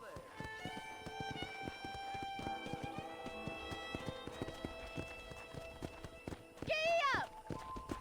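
Steady hoofbeats of a horse trotting in Red Dead Redemption, a continuous rhythmic clip-clop under game music, ending with a brief loud neigh near the close.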